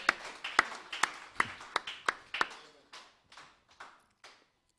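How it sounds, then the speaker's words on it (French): Church congregation clapping for the Lord Jesus Christ at a London gathering: a run of sharp, irregular handclaps, fairly close and loud at first, then thinning out and fading to a few scattered claps before stopping. "Let's clap for the Lord Jesus Christ."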